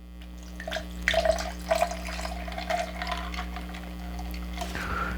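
Ginger ale pours into a measuring jigger for an Irish Buck cocktail, a soft liquid trickle with a few brighter splashing bursts near the start, alone and close by with a low steady hum underneath.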